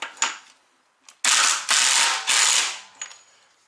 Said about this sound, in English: I'm not sure if this rattle gun's, being electric, is going to be capable of getting this off.